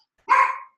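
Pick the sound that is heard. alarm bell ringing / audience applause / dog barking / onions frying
dog barking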